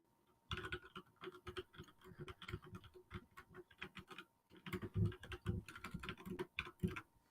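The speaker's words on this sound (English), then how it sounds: "Listen to the beautiful ASMR of my keyboard" Rapid clattering keystrokes from a computer keyboard fill the whole stretch, dense and close, with bursts of faster typing and no voices.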